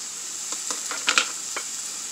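Onion, tomato and tuna sautéed in a pan give off a steady, close hiss of sizzling, with a few soft scraping stirs cutting through.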